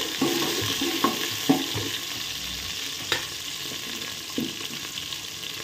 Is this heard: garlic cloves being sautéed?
yes